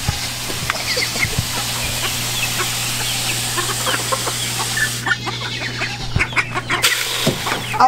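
Hens cluck and murmur in a busy pen, a steady low farmyard din with scattered sharper calls and a brief quieter gap near the end.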